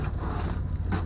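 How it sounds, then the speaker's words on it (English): Strong wind buffets the microphone outdoors, a steady low rumbling roar through the whole moment. "And it's windy as hell."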